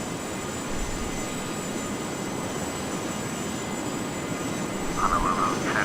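A simulated light aircraft, a Bombardier, droning steadily in flight in the game Air Hauler, a loud continuous engine rumble that stays unchanged throughout.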